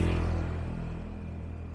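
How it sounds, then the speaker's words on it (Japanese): An airplane passes overhead near Machida station in the city, a loud, low, droning roar with a steady hum that fades gradually over a couple of seconds. "町田とか相模原って結構この飛行機の轟音が 気になるっていうね"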